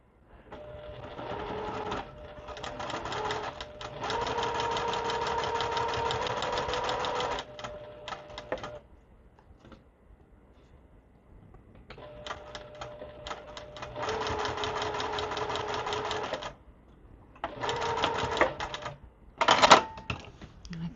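A sewing machine stitches quilt fabric with a short stitch length in several close, rapid runs of a few seconds each, separated by brief pauses, ending in a couple of short bursts.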